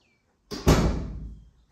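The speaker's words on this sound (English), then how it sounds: "I'll close the doors" A house door swings shut with one solid thud, its low, resonant slam ringing out and decaying over about a second. It is close and fairly loud after a quiet lead-in.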